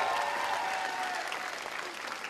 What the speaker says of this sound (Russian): Громкие аплодисменты, друзья